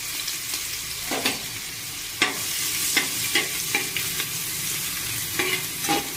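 Chopped onion sizzles in a little oil in a pressure cooker, a steady fry hiss broken by several stirring scrapes spaced through the clip, close and moderately loud with no talking.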